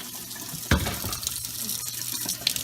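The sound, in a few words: hot water running from a house tap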